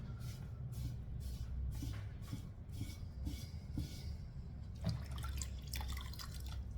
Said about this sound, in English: I'm going to start sponging off that black glaze that I've applied.